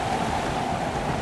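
A waterfall in a video game rushes as a dense, loud, continuous broadband roar with no break.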